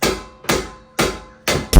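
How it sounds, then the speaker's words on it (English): Four loud, ringing metallic hammer blows land at an even pace on a brake rotor, each clang decaying before the next. "We might have to hit that with a hammer a few times."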